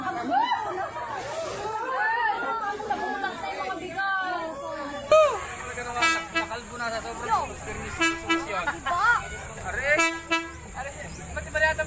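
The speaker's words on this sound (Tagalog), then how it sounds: "Nandiyan ang tren!" A train passes with repeated loud horn toots and a steady rumble, close by, while excited voices shout and chatter over it throughout.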